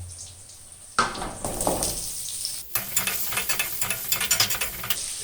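Chopped carrots sizzle and fry together with boiled potatoes in a pan for an egg curry, while a spoon stirs them in a run of scraping, clattering strokes; the frying hiss is loud and close throughout.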